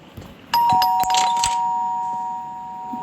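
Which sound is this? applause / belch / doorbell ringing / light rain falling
doorbell ringing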